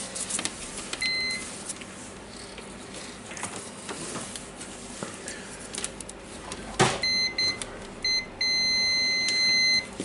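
Multimeter continuity beeps while testing the power cord of a Makita angle grinder, several short high electronic tones from about seven seconds onward, near and clear over low room noise.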